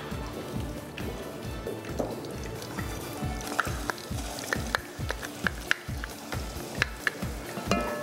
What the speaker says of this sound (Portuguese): Vamos fritar a cebola e o alho.